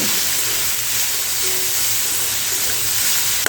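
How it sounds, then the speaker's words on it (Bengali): Potatoes and carrots with salt and turmeric fry in a pan, giving a steady close hiss and soft sizzle that holds evenly throughout. "এবারে সব কিছু মিশিয়ে একটুখানি ভালো করে ভেজে নিতে হবে"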